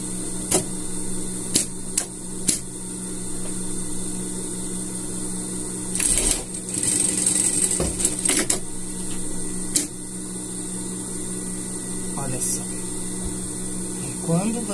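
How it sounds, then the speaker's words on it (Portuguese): A sewing machine stitches a V-neck collar on a men's sweater, running in short bursts over a steady electrical hum, with sharp clicks between the runs and a voice talking throughout. "essa forma que você tem que costurar pra fazer a nossa gola V aqui"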